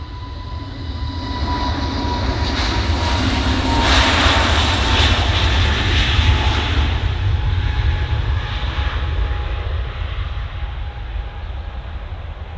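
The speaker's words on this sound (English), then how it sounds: "It's a beautiful KLM returning to Amsterdamage." A KLM airliner passes overhead, its broad jet-engine roar swelling to a peak around the middle and easing slightly as it continues, steady and fairly loud with no talking.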